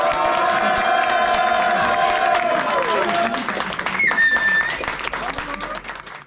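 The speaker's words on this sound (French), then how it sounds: "Donc un applaudissement pour Zuna." A crowd at a Red Bull esports event with the G2 Samurai team applauds Zuna, dense loud clapping mixed with cheers and whoops and a whistle-like tone, thinning out toward the end.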